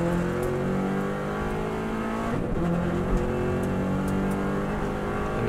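A tired Subaru WRX STI driven flat out on the Isle of Man road course, its engine roaring loud and sustained at full throttle, pitch climbing, with a brief dip midway like a gear change.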